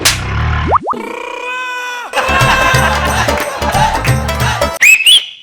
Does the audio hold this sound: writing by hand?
no